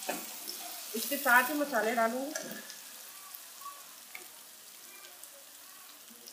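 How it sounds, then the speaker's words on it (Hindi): Beef liver sizzling in a pan with spices while someone speaks over it, frying loudest in the first few seconds and then easing to a softer, steady crackle. "इसको थोड़ा सा भूनूंगी इसमें।"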